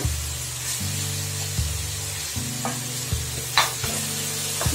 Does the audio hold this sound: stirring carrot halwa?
yes